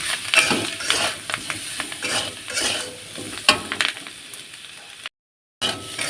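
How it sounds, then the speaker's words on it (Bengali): Salted food fries in a pan while it is stirred steadily, with continuous sizzling and repeated scraping of the utensil against the pan, close up and without speech. "এখন কিন্তু ভালোভাবে নাড়াচাড়া করব।"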